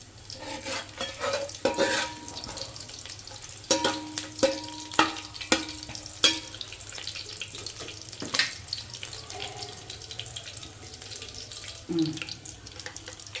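Whole garam masala spices, including star anise, cardamom, cinnamon and cloves, stirred in a hot pan for chicken biryani, giving a run of sharp clatters and scrapes over a soft background sizzle, fairly close.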